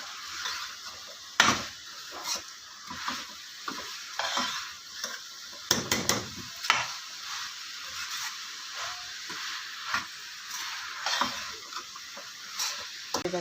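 Carrots, fenugreek leaves and peas stir-fried in a pan, a steady sizzle with repeated scraping stir strokes and occasional utensil clicks throughout, no voices.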